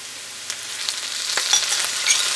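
Jarred minced garlic sizzles in a hot pan for chicken pot pie filling, a crackling fry that builds slightly with scattered sharp pops and stirring clicks, close and fairly loud with no voices.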